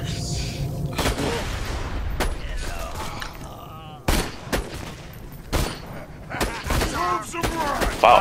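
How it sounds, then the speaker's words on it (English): Gunfire in Borderlands 2, with repeated sharp shots and short bursts ringing out close and loud, separated by brief gaps, while game sounds rumble underneath. "Wow, I shot him in the head so hard that his whole body exploded."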